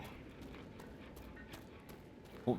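Horse hooves clip-clop at a steady pace in the Dragon Age Inquisition video game, a soft, fairly faint walking rhythm that carries through the whole stretch with a brief louder bump at the end.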